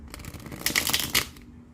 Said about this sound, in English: Just 2 shuffles.